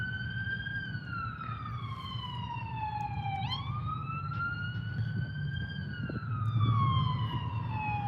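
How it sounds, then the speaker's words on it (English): An ambulance siren wails past outside near the White House, a loud rising-and-falling electronic tone that shifts in pitch as it moves by, over steady traffic rumble. "Ambulance going by."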